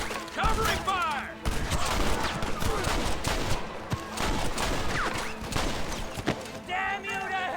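Shootout in Red Dead Redemption, with dense, continuous crackling gunfire and overlapping shots through the whole stretch, mixed with shouting voices and some higher musical or whistling tones.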